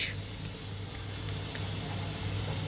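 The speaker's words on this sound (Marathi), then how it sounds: "आता आपण टाकणार आहोत सगळे व्हेजिटेबल्स" Chopped cabbage, carrot, capsicum and peas hit a pan of sautéed onion for butter garlic rice, setting off a steady, close sizzle that keeps going without pause.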